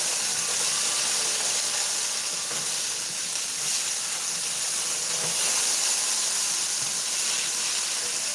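Spiced potatoes frying in a skillet make a continuous, even sizzle and hiss, close and steady throughout with no voices.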